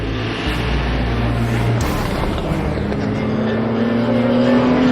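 A Peugeot race car passes on track, a loud close engine note shifting in pitch as it goes by, followed by a steady sustained roar of racing engines.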